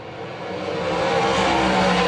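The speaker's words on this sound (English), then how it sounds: "that car took a boatload of power going into turn number 1" A race car at a short-track oval accelerates hard into turn one, a loud, steady engine roar that builds slightly, with a hint of tire noise and no talk over it.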